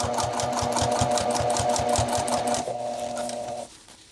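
A sewing machine runs steadily, stitching a jacket collar seam with a rapid, even mechanical rhythm up close, then slows and stops near the end.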